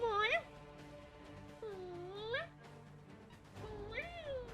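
A cat meows three times up close, each cry a rising, drawn-out call, over a low hum of game sound and a faint voice.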